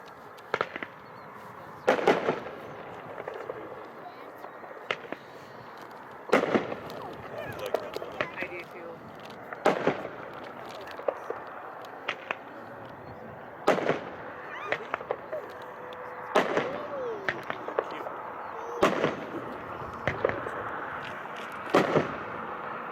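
A Bananarama 8-shot 200 gram vivid color firework cake launching outdoors, sharp bursts at regular intervals of a few seconds, each a loud crack trailed by crackle, over a steady background murmur of a crowd.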